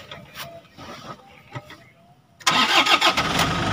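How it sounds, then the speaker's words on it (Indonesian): A 2008 Toyota Fortuner diesel with a manual gearbox and its original engine cranks and fires up after a quiet stretch of faint background sound, then settles into a loud, rough clatter up close. "Kita hidupin mesinnya."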